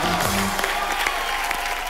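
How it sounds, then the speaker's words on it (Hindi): Studio audience at a Hindi comedy show gives a steady burst of applause, dense clapping close and full throughout, with a voice briefly over it at the start. "भारती और करण के लिए जोरदार तालियां।"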